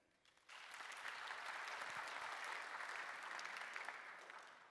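An audience at a design conference talk bursts into steady applause, a dense wash of many hands clapping that starts abruptly and holds, then eases slightly toward the end.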